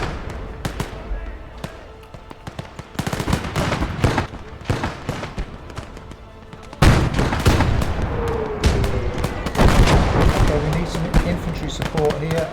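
Bursts of gunfire and heavy explosions crackle through a WWII strategy video game battle with tanks and artillery, loud and irregular, while someone talks over the clatter.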